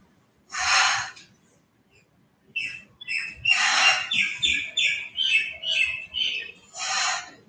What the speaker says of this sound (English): It's not a native, it's the Indian myna